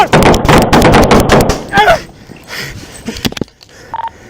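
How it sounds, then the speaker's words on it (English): Police gunfire erupts in a rapid, loud volley of overlapping shots at close range, followed by scattered bangs and clatter, with shouting voices in the mix. "Shots fired!"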